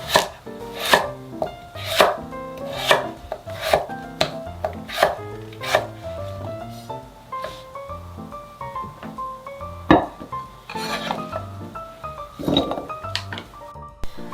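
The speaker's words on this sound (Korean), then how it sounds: "감자는 반으로 자른 후에 좀 도톰하게 좀 잘라주세요" A knife cuts halved potatoes into thick pieces on a board, each stroke landing as a distinct knock in a regular rhythm with occasional clinks, fairly close and clear with no voices.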